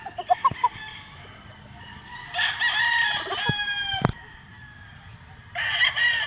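Young gamecock stags crow at a game farm during a summer sale, several drawn-out crows at mid distance, one starting near the middle and another at the end, with a few short clucks early on.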